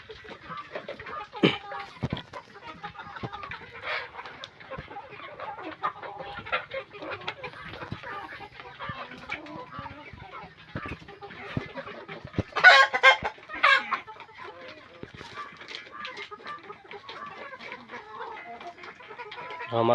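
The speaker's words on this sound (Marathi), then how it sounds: "हा मागच्या बॅचचा कोंबडा आहे" Chickens on a small farm poultry shed cluck in scattered, overlapping calls, with a rooster crowing briefly near the middle. A few louder bursts rise above a low, busy background. The bird sounds are close by and nobody speaks.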